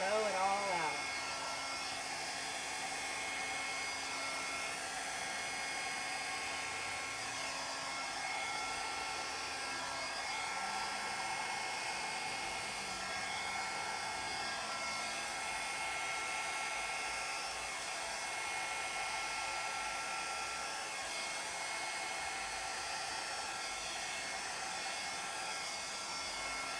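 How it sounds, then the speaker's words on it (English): A blow dryer blows steadily across fluid art paint with white pearls, a loud continuous whirring hum held close for a long stretch with slight shifts in pitch as it moves. "Blow dryer, I'm going to come down in the middle first, and then I'm just going to blow it all out."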